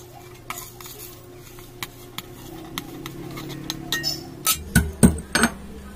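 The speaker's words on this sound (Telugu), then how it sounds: "సో ఇప్పుడు ఈ యాలకుల్ని తోట్లో వేసేసి దంచుకుందాం" Cardamom pods pounded in a stone mortar for panakam: scattered light clicks and taps, then a run of several louder, heavier thuds close by near the end, with no talk.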